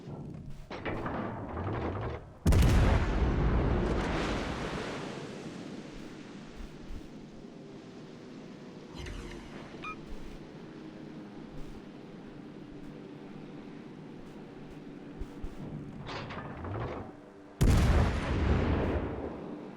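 Heavy warship guns in World of Warships Legends, two loud booming salvos several seconds apart with long rumbling decay over a low background of sea and engine noise.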